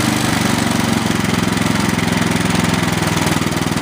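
A Troy-Bilt 2620 snow blower engine runs steadily at low speed, with a rhythmic chugging pulse, close and loud, with no voices.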